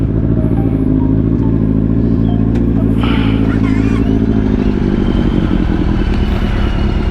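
Yamaha Stratoliner motorcycle engine starting and revving outdoors, a loud, close, continuous rumble with rising throttle blips throughout.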